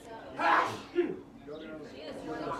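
A single sharp human sneeze bursts out loudly near the start, followed by brief talking against quiet outdoor background.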